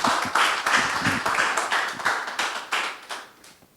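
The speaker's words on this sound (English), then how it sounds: "Please, a round of applause for her." An audience gives a round of applause for a speaker at a launch event, a burst of clapping close by that swells briefly then thins and fades over a few seconds.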